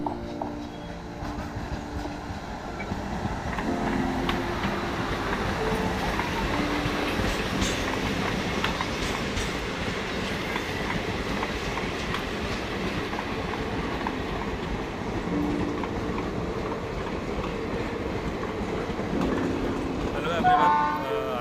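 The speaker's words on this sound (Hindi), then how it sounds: "आज मैं बनगाई रेलवे स्टेशन पर हूँ" At Bangaigaon railway station a train rolls past with a sustained rumble and rhythmic wheel clatter over several seconds, while voices are heard in the background.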